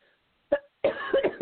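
A short cough, then a cluster of coughs or throat-clearing sounds, close and fairly quiet.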